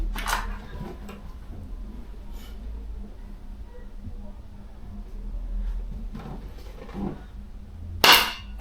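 Shots are fired at a target while trying out Yusuf Dikeç-style shooting, with a few sharp, separate cracks spread across a quiet stretch. The last shot is the loudest, and soft voices can be heard between the shots.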